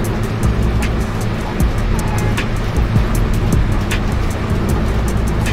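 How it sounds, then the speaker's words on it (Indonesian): Steady heavy rain hammers down while a Scania bus drives along a Berlin road in a bus simulator game, a continuous loud wash of rain over a low engine drone with occasional soft clicks. "Gara-gara hujan ini."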